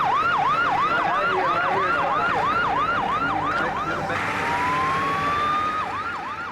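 An ambulance siren in a TV crime drama, a loud rapid wailing yelp that repeats steadily, then switches to a long rising wail, close and dominant with no talk over it.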